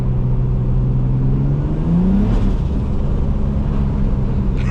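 Turbocharged BMW E36 driving in snow on snow tires: a steady, loud engine drone with a rising rev around the middle, then a continuous rumble and whir close by, with no talking.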